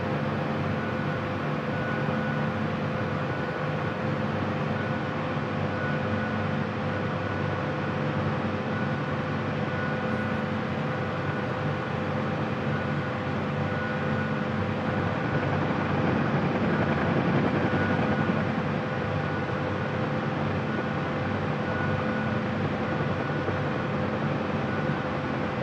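A helicopter takes off in the DCS flight simulator game, with a steady, dense rotor and turbine drone that holds loud and unbroken throughout.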